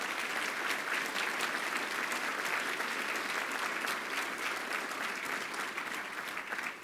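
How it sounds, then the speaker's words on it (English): A fundraising dinner audience applauds family and friends in a banquet hall, a dense, continuous wash of many hands clapping at even volume for several seconds, tapering slightly at the end. "Let's have a round of applause for their support systems."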